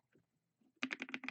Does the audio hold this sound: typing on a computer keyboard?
yes